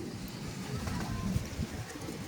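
A racing pigeon coos softly in a loft, a few low throaty coos heard faintly against a quiet background.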